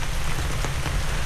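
Heavy rain pours in strong wind, a dense, loud, even hiss of drops with no voices.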